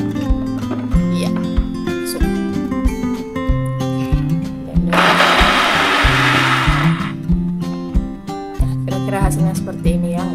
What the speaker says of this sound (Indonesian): per cabai-cabaian kita chopper semua, masukin ke dalam blender. Lanjut, itulah blendernya ya, kencengin